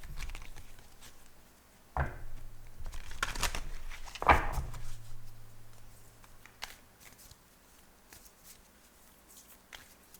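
A few quick riffling bursts of a deck of cards being shuffled, with sharp papery clatters and soft handling noises in an otherwise quiet room.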